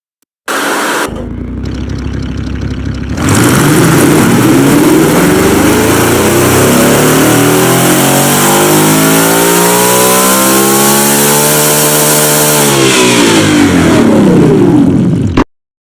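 A simulated car engine with heavy-duty pistons revs in the game Automation, climbing steadily in pitch from a low drone and holding a loud, sustained high whine before cutting off abruptly.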